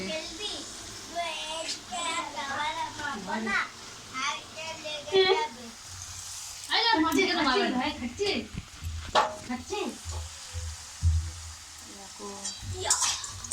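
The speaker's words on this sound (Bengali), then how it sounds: "আলু সবে ভাজতে বসেছি, একটা একটা করে করবো।" Potatoes frying in a pan at home, a soft sizzle and occasional stirring clinks sitting beneath near, frequent conversation and a voice throughout.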